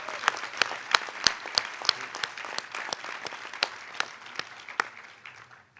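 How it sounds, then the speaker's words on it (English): An audience at a health disparities and education forum applauds, with distinct, fairly sparse claps ringing out at moderate distance and thinning slightly toward the end, no voices over them. "I want to ask us to extend a round of applause for Rochelle"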